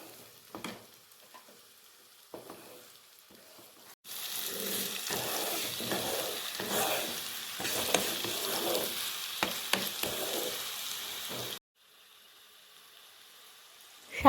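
Potatoes fry with poppy seeds and chopped raw mango in a pan, a dense close sizzle rising sharply as the mango goes in and holding steady under stirring before dropping away to quiet.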